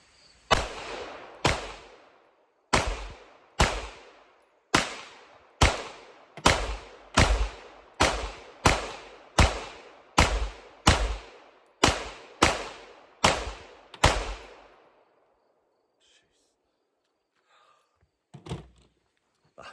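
Springfield Echelon polymer pistol fired in a fast string of about fifteen sharp, evenly spaced shots, loud and close, each with a short ringing tail, followed by quiet and a couple of faint knocks.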